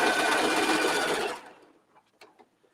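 A serger sews steadily around a fabric edge, its fast motor whir loud and continuous, then stops abruptly, leaving a few soft handling clicks.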